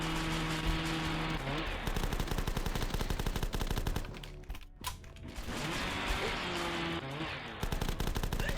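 Sustained automatic machine gun fire from The Last Stand zombie shooter, loud and continuous with metallic mechanical clatter, dipping briefly midway before resuming.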